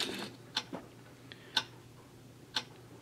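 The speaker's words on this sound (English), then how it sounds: "And a clock." Clock ticking sound from an Avantek white noise machine, sharp regular ticks about once per second, quiet and close, with softer faint clicks between them and a low steady hum underneath.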